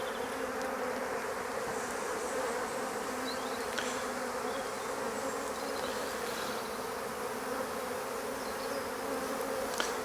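A honeybee colony with an extended brood nest buzzes steadily and densely throughout an open hive inspection, a continuous close drone with no talking.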